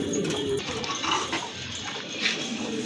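Pigeons, including a pair offered for sale and Lahori birds with seven-feather markings, coo softly and intermittently against a busy background of clatter and faint voices.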